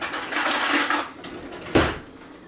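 A spoon stirring chia seeds, breadcrumbs and salt together in a bowl, a short burst of close scraping and gritty rustle followed by a single sharp clink against the bowl.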